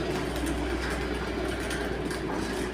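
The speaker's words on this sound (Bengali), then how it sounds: "এই যে টয় ট্রেনগুলো ঢুকছে," The Kalka–Shimla toy train enters a station on a sloping route, a steady low rumble running throughout at moderate distance with no talk.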